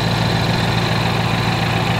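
A car engine runs steadily at idle, its exhaust giving a constant low rumble with vibration, loud and close and alone.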